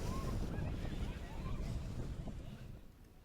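Waves breaking on Kovalam Beach along the ECR coast near Chennai, a steady rushing surf buffeted by wind on the microphone, with boats nearby and the wash fading slightly toward the end.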